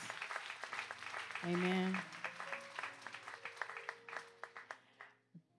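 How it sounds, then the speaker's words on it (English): Scattered hand claps from a church congregation at a Sunday worship service, fairly faint and uneven, mixed with a voice speaking over them and a brief sung or spoken note. "give our young people a hand clap of praise"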